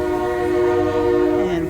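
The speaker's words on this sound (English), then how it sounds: "And we have a train in the background." A train horn sounds steadily in the background for the whole stretch, a sustained chord holding near and loud, with a faint rumble underneath and no talk over it.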